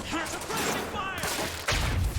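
Rapid gunfire in the Quantum Break video game, a busy stretch of shots and loud bursts that swell near the end, with voices partly mixed in.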